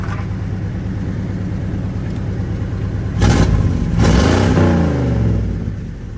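An old truck's engine idles with a steady low rumble, then revs up loud and close twice, the second rev holding higher for a couple of seconds before settling back down.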